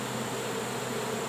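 Dense, steady buzzing of honey bees swarming around their hives at an apiary, a loud continuous drone filling the whole moment with no gaps.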